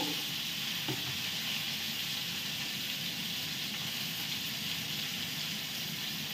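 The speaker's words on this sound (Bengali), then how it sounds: "দিয়ে এবার কপিটাকে ভালো করে ভেজে নেব।" Cauliflower frying in a pan with turmeric and salt gives a steady, close sizzle and hiss with no break, and nobody speaks over it.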